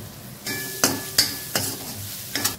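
Onions cooking with salt and turmeric for egg curry sizzle in a pan as a spoon stirs them in several sharp scraping strokes over a soft steady frying hiss, close by, with no talking.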